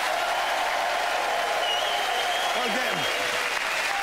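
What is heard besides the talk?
audience applause welcoming comedian Richard Herring to the stage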